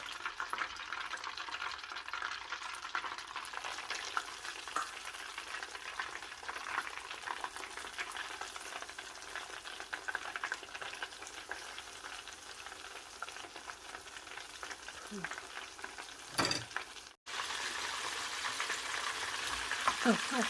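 Crispy chicken wings fry in hot oil with a steady, dense sizzle and crackle throughout, close and fairly loud, briefly interrupted by a couple of sharp knocks near the end before the bubbling resumes.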